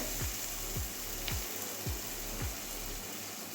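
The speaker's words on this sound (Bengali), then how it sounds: "মশলাটা আমার কষানো হয়ে গেছে মশলা থেকে সমস্ত জল ঠিকিয়ে গেছে তেল ছেড়ে দিয়েছে" Spice masala for a hilsa-head and pui shak dish sizzles in oil in a pan, a steady, fairly quiet frying hiss broken by regular scraping strokes, with no talk.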